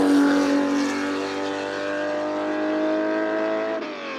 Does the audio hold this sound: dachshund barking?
no